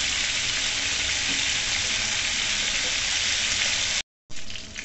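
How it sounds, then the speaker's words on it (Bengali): Katla fish pieces fry in white oil, giving a dense, constant hiss of sizzling close by that cuts out briefly near the end and then resumes more softly. "এই মাছগুলোকে প্রথমে ভালো করে ভেজে নিতে হবে, সাদা তেলে কিন্তু ভাজতে হবে এবং হলুদ ছাড়া ভাজতে হবে"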